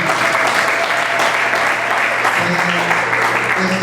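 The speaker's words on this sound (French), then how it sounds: "Applaudissez encore très fort pour lui." Loud, dense applause from a conference audience in Kinshasa, a sustained wash of clapping hands that holds steady from start to finish.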